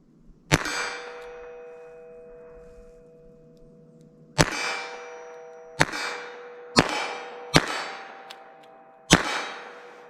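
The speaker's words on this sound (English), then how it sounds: "All right, 32 long. Fire slow, see where they hit." Six slow, spaced shots from a .32 Long handgun during a wadcutter ballistic test, each a sharp loud crack with a ringing metallic tail, the first two separated by a long pause, then steady evenly spaced reports.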